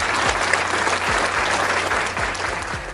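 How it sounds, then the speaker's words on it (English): Applause from a small group gathered for a 49ers–Eagles postgame talk session: steady, fairly close clapping that keeps up throughout, with faint low thumps underneath. "Give Dollar a round of applause"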